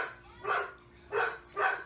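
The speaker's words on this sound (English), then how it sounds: "I am so sorry for the dog that keeps barking." A dog barks three times in quick succession from somewhere nearby in a home, each bark loud and distinct, with short quiet gaps between them and no talking.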